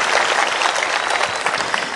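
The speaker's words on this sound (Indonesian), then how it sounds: "ayo tepuk tangan dulu" Loud, continuous applause from a big crowd gathered for a religious lecture, thick and even for the full stretch without any talking.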